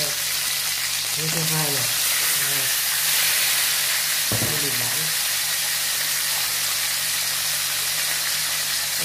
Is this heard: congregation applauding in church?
no